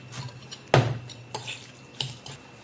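Mashed tofu is scraped and mixed in a bowl, giving a few sharp utensil clinks and scraping strokes spaced irregularly, close and fairly loud against a quiet background.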